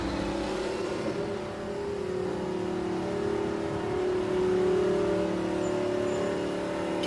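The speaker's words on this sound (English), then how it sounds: "This is the grader that levels the road before we put the tarmac down" A road grader's diesel engine runs steadily while levelling a road before tarmac goes down, a continuous mid-pitched drone that swells slightly partway through, with no talking.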